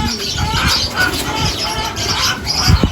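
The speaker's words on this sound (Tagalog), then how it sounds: "Yung kalapati natin." Racing pigeons at a derby loft cooing and fluttering, soft calls and wing flaps close by over a steady outdoor background, with a few low thumps near the end.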